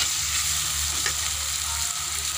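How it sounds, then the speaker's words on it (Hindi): Onion, green chili and spices sizzle and fry steadily in hot oil in a pan, a constant close crackling hiss with faint stirring. "सारे मसाले को हम भून देते हैं, तड़के को होने देते हैं"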